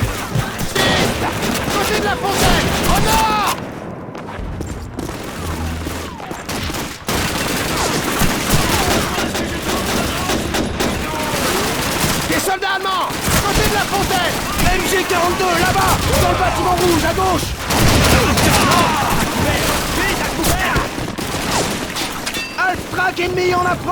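Dense, continuous battle din in Call of Duty 2: rapid MG42 machine-gun bursts, scattered rifle fire and booming explosions, loud and unbroken, with shouted voices mixed in.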